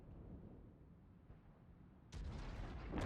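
Low rumbling gunfire from World of Tanks, with a sharper burst of booming artillery shots from an M12 self-propelled gun near the end.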